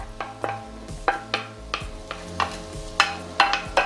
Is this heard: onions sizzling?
yes